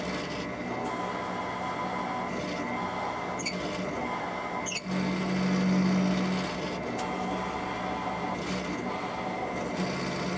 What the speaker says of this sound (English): Now I can start drilling out the bigger holes for these games.